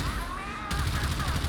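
Mark III ship guns firing in Warframe's Railjack combat, a dense rapid stream of shots starting abruptly partway through and continuing steadily at moderate loudness over a game tone.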